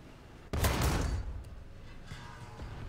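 A single heavy tank cannon shot booms in War Thunder Realistic Battles from a Type 16, its sharp blast followed by a rumbling decay of about half a second and a faint lingering tail, with no voices over it.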